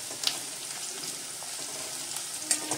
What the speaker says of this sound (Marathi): कांदा आपण आता तेलामध्ये चांगला भाजून घेऊया।